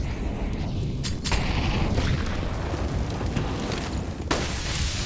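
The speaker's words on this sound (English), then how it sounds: "Volley of grenades cascade onto the A side." Grenade volley from a Counter-Strike round on Dust 2 bursts onto the A site as a dense run of booming blasts under continuous rumble, with sharp bursts near the start and one late.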